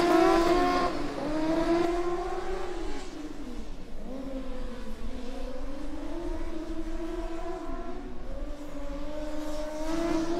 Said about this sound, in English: we also have car H48 approaching the finish line on their first run